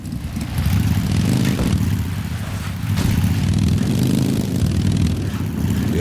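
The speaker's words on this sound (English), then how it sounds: "the sound of the engine sounds amazing. It's like a Harley Davidson engine" A motorcycle engine in the video game Car Factory Empire rumbles with a deep, throbbing, Harley Davidson-like tone. It revs up and holds loudly with a couple of shifts in pitch, and there is no talk over it.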